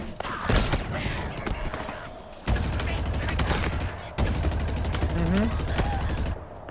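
Loud, rapid gunfire from the Halo Infinite campaign: sustained bursts of automatic shots with heavy thuds, broken by a couple of abrupt pauses before the firing resumes.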